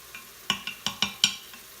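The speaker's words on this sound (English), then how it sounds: "You want to wait until the shallots and the garlic are caramelized and slightly translucent." Shallots and garlic sautéing in an Instant Pot make a low, faint sizzle, punctuated by six or so sharp metallic clinks of a spoon stirring against the pot in a quick uneven rhythm.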